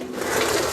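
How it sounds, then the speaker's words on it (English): A steady grinding, rattling roll of a worn mechanic's creeper's small hard wheels on a garage floor, close and continuous for under a second. "Excuse the noise. That's my creeper."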